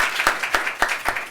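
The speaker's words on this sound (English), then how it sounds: "I think we need some applause here" Audience applause for a 49-year educator at an education event comes through as a short burst of a few distinct, evenly spaced claps over a faint crowd wash, fairly close and moderately loud.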